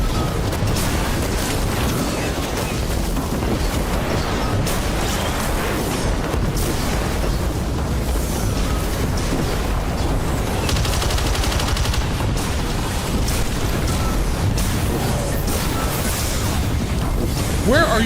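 Gunfire and explosions roar through a pirate video game fight, a dense, loud barrage of shots and booms that never lets up, with a voice faintly mixed in underneath.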